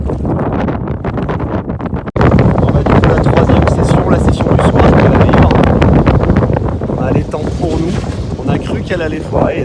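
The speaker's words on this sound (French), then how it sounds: "il y a du vent" Strong wind buffets the microphone on a boat during a kitesurfing session, a loud continuous roar with a brief gap early on, and a voice faintly beneath it.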